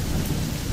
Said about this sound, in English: so I guess we just leave for the night since it's a thunderstorm